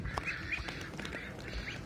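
A flock of American ducks quacks in a farmyard, several birds calling close by in overlapping bursts over a steady background of muffled bird noise.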